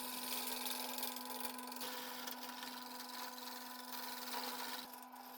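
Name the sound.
wood lathe turning an unbalanced wooden piece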